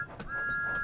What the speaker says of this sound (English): There, we got Thomas's whistle.